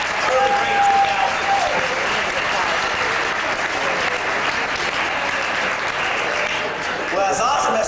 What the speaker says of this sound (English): give yourself a great round of applause for a great, truly great 2000